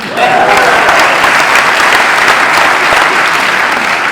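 A crowd at a political town hall gives loud, sustained applause, a continuous wash of many hands clapping close by that holds steady throughout.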